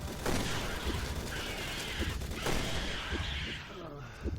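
Rapid gunfire and mechanical clatter fill a dense, noisy combat scene in Resident Evil 6, with sharp repeated shots and crackling bursts layered under continuous game din.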